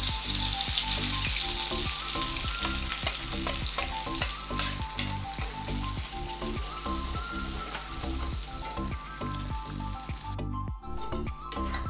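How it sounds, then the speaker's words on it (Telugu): Spice paste for a dhaba-style paneer curry sizzles loudly in a pan, stirred steadily with repeated scraping strokes throughout, close and continuous with no talking. "పేస్ట్ చేసి ఉంచుకున్నాం కదా పేస్ట్ వేసుకున్నాను"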